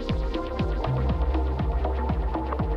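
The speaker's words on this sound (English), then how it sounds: "And then this is a filter sweep," A resonant filter sweep from a Roland SP-404 MK2 sampler effects unit moves repeatedly across a throbbing, humming looped beat, rising and falling in a steady rhythm with no talking.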